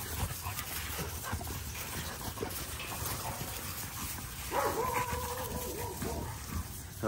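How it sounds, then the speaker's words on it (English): A dog gives a short whimpering, whining cry partway through, rising briefly above a noisy outdoor background with rustling and faint talk. "No, Roxy's a serious dog, though."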